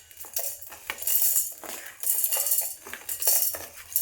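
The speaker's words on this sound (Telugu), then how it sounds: "జార్ తీసుకుందామండి, తీసుకొని పప్పులన్నీ వీటిలో వేసేసుకుందాము." Roasted lentils tumble into a steel mixer jar for making bitter gourd spice powder, a busy metallic rattle and clink in rolling bursts, close and fairly loud, with no talk over it.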